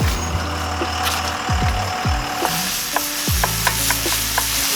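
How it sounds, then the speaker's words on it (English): Ground meat browning in a cast iron skillet on a Camp Chef stove outdoors by a river, a steady close sizzle with intermittent spatula scrapes and clanks, no talking. "We're just gonna brown the meat here"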